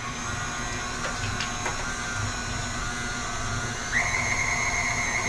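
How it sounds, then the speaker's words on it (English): A KitchenAid stand mixer grinds sausage meat with a steady motor drone and a high whine, and partway through a strained tone rises and holds, close and with no talking. "You want to listen to your KitchenAid. If it starts to whine and cry,"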